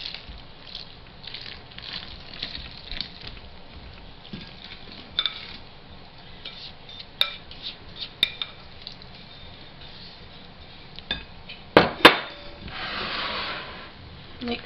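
Wet and dry ingredients for Boston brown bread batter being stirred together in a bowl, soft squishy patter with occasional spoon clinks and a louder knock near the end, close and fairly quiet.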